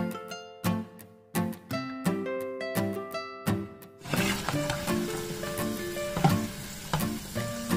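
Tofu fries in hot oil with a dense crackling sizzle that takes over halfway through, after an opening stretch of plucked, tonal notes.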